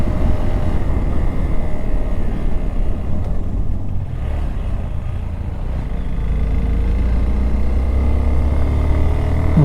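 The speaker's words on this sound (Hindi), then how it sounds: "थर्ड गियर पे फुल थ्रॉटल दे के रखा हूँ मैंने।" A motorcycle in third gear at full throttle climbs a steep mountain pass toward Umling La, at about 19,000 ft. Its engine drone is steady and loud, mixed with heavy wind rush throughout.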